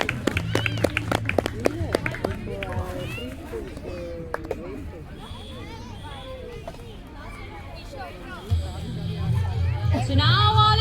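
Clapping and cheering from a crowd at a school sports day race for preschool girls, a busy hubbub of voices and claps continuous throughout, swelling louder near the end.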